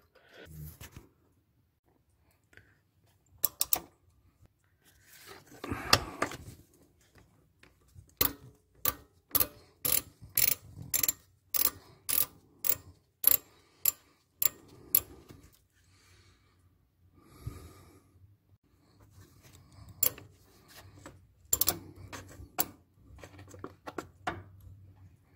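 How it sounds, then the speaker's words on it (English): Ratchet working a T50 Torx fill plug on the power transfer unit of an AWD Ford Fusion, a series of quick evenly spaced clicks, close and crisp, with quieter handling noises and breathing between the bursts. "I have loosened the fill plug."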